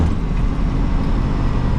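A cold truck engine idles close by, a loud, steady low rumble with no revving and no talking over it.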